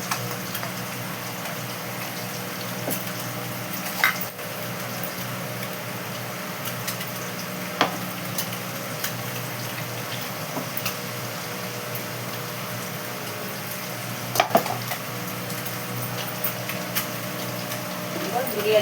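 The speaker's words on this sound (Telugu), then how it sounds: "మళ్ళా గుడ్లు వేగిపోతున్నాయి" Eggs fry in a pan seasoned with pepper powder, producing a soft continuous sizzle with scattered small pops and crackles, fairly quiet throughout.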